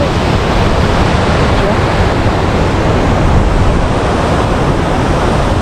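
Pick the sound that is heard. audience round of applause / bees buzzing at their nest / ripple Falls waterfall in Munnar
ripple Falls waterfall in Munnar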